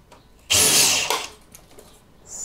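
A cordless screwdriver whirs loudly in one short burst of about half a second during work on a Miele washing machine, then tails off into quieter clicks and a brief faint whir.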